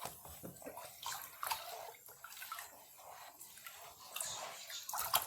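Apple cider vinegar poured and swirled into a container already holding baking soda, giving a close, uneven run of liquid splashing and sloshing with brief fizzy bursts.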